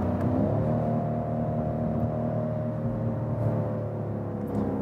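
A luxury sedan's engine gives a deep, low-frequency hum that holds steady and moderately loud, with a slight swell in pitch partway through and no voices.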